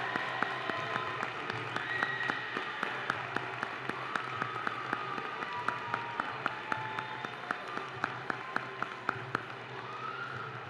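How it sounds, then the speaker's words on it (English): An audience at a class night applauds with continuous clapping, a dense patter of hands under faint crowd murmur, heard from a distance and fairly quiet. "Let's give him a round of applause."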